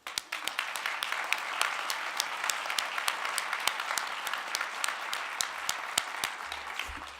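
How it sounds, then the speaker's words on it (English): An audience at a sustainable-finance and energy innovation event gives a sustained round of applause for EIB leadership, a dense, even patter of many hands with a few sharper claps standing out nearby. "So I'd like to give another very big round of applause for some leadership within the EIB"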